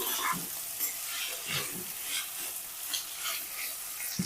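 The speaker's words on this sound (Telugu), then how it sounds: "పసుపు వేసిన తర్వాత మొత్తం ఒకసారి కలిపేసేద్దామండి" Onions and tomatoes with turmeric being stirred in a pan, a constant sizzle broken by repeated scraping strokes of the spoon in a loose rhythm, close and moderately loud.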